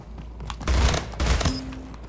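Gunfire in the online shooter Splitgate, a short burst of shots with two loud clusters of bangs close by, followed by a faint tonal game sound.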